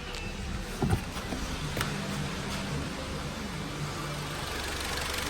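A 2018 Skoda Octavia 2.0 TSI engine idles with a steady low hum and a brief clunk near the start, continuous and fairly close.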